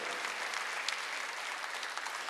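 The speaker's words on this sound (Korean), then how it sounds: "박수." Steady applause from a church congregation during a Sunday service, dense clapping holding at an even level throughout, with no voices standing out.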